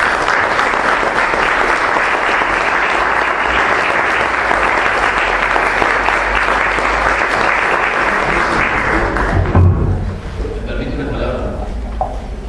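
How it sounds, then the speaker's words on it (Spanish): Sustained loud applause from a lecture audience after a talk on politics and education, dense and even clapping from many people that continues for about ten seconds and then thins out abruptly. "dedicándole un fuerte aplauso."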